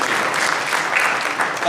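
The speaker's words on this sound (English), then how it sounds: "So if we can give them a big round of applause and thank them for their service." Steady applause from a crowd at a community disaster preparedness meeting, an even, continuous patter of many hands with some voices mixed in.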